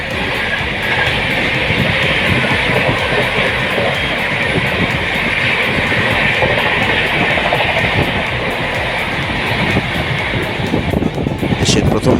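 Sealdah Rajdhani Express passing at close range, a steady loud rushing rumble with wheel clatter over rails that holds for about twelve seconds without letting up.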